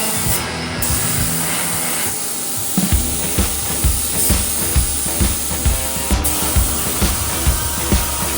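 A spray gun lays paint onto a 1966 VW Bug in an inflatable paint booth, a steady close hiss under a constant fan drone, joined midway by regular soft thumps.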